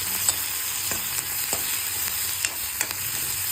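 Onions, green chillies, ginger and garlic sizzle steadily in a pan, a continuous close frying hiss broken by a few soft clicks of stirring, with no voices.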